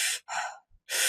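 Circular breathing practice: a sharp audible inhale, a longer smooth exhale, a brief faint breath, then another strong inhale, close and isolated with short silences between.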